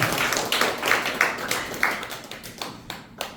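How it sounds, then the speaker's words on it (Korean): A small audience at a political lecture claps in a brief round of encouragement. The close, crisp claps fall in a loose rhythm and thin out toward the end. "격려의 박수 한번 부탁드리겠습니다."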